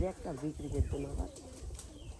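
An old pigeon coos in a series of low, throaty calls close by at a pigeon coop, with a voice audible alongside.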